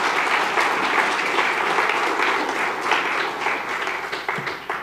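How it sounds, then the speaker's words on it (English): A room full of audience members at the 2023 Global Plant-Forward Culinary Summit applauds the summit presenters with steady, dense clapping that holds for several seconds before thinning slightly at the end. "if we could give them a round of applause"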